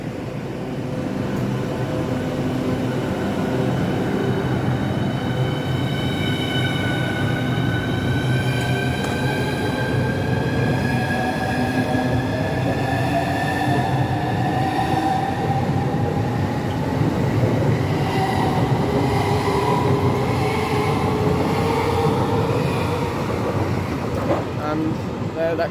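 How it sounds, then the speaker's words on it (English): Train pulling out of Stratford International on a service to Dover Priory, a steady close rumble with rising whining motor tones as it accelerates away over about half a minute, loud and continuous. "departing now, we've got the 741 service to Dover Priory."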